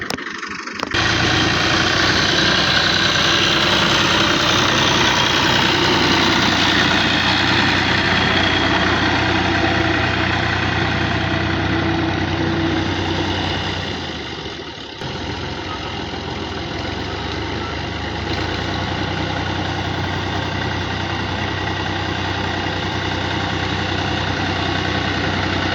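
A tractor engine idles nearby with a steady, loud, low rumble that continues unbroken, dipping slightly around the middle before settling back to the same even drone.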